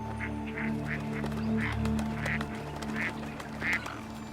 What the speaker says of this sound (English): This solitary duck, perhaps.